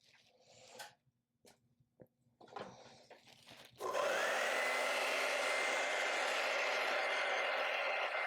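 A hair dryer switches on after a few light handling knocks and runs with a steady, loud whooshing roar while drying an acrylic painting of mustard fields at sunset.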